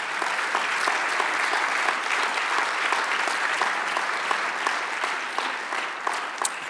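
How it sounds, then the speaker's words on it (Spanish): A church congregation applauds loudly and steadily for nearly seven seconds, a thick even stream of many hands clapping with no voices standing out. "Dale el aplauso grande."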